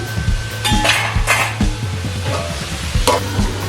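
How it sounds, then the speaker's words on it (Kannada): Carrot, beans and capsicum stir-fried in oil for masala Maggi, loud close sizzling under rapid repeated metal spatula scrapes and clanks against the pan, no talk. "ಕ್ಯಾರೆಟು, ಬೀನ್ಸು, ಕ್ಯಾಪ್ಸಿಕಮ್ಮು ಎಲ್ಲ ಹಾಕ್ಬಿಟ್ಟು ಮಿಕ್ಸ್ ಮಾಡ್ತಾ ಇದ್ದೀನಿ. ಸ್ವಲ್ಪ ಹೊತ್ತು ಎಣ್ಣೆಯಲ್ಲೇ ಫ್ರೈ ಆಗಲಿ."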